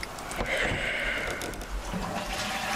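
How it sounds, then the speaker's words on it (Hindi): A toilet flushes in a bathroom within a horror video game: a brief whooshing rush of water with gurgling and trickling, moderately close and fairly quiet. "किसी ने फ्लश करा वॉशरूम में"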